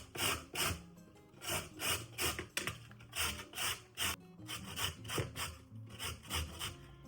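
Fresh corn is grated by hand over a grater in a quick, regular series of close, raspy scraping strokes, each stroke a short gritty swish.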